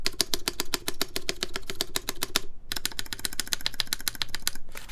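Fast typing on a mechanical keyboard with stock GMK stabilizers gives dense, crisp clacking bursts with a rattly edge, close and clear, pausing briefly midway before resuming.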